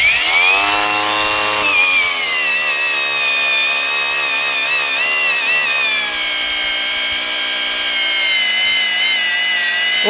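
Chinese GTM cordless angle grinder, battery not fully charged, spinning up and running at maximum speed, a loud close steady whine with rising pitch at the start, alone without talk.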